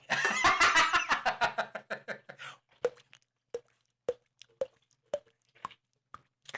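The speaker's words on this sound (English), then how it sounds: "That's the sound of Jay drinking the last of his Twisted Tea." Jay slurps the last of his Twisted Tea from a nearly empty can: a close, rattling burst of slurps, then a slow series of sharp, evenly spaced drips and clicks with silence between them.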